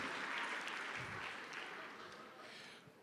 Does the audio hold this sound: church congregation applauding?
yes